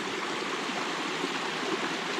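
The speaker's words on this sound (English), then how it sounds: "you're gonna hit this little creek here" A small creek beside a hiking trail flows with a steady, close rushing babble of water, continuous and even throughout.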